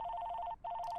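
Telephone ringing in the video game The Lake demo: a loud, steady electronic double-tone ring repeating in quick bursts, pausing briefly before resuming, with no voices over it.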